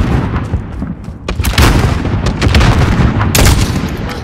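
Video game gunfire, loud booming shots in a dense volley with sharp cracks and bursts, close and continuous, no talk.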